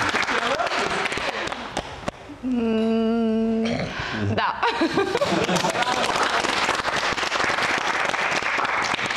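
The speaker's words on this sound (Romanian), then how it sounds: "Aplauze!" A Romanian reality-show studio audience applauds for a couple, a dense, loud burst of clapping that runs several seconds, with a short voice and tonal sound breaking in midway.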